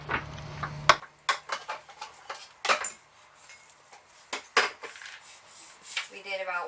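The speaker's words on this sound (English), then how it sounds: "And now we will kind of fold that into our batter." A utensil scrapes and clinks against a mixing bowl while cinnamon chips are folded into zucchini bread batter. The taps and knocks come irregularly, with quiet pauses between them and a soft voice now and then.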